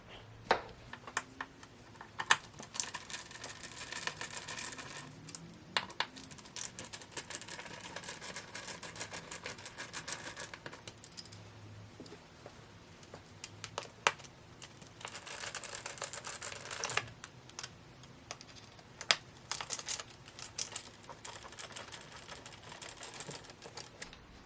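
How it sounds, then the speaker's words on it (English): Torx screws being removed from a recliner footrest mechanism: faint, scattered metallic clicks and small tool taps at irregular intervals over a quiet room background. "let's remove the 4 torque screws from the footrest."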